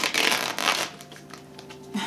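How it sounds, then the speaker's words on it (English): Tarot cards are shuffled with two quick riffling bursts of papery rustle, close and fairly loud, then a softer pause with a faint hum and a small tap at the end. "well, those didn't shuffle very well."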